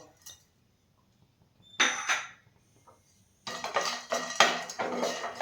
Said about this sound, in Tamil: வேர்க்கடலையும் பாதாம் பருப்பையும் சேர்த்து வறுத்துருவோம்.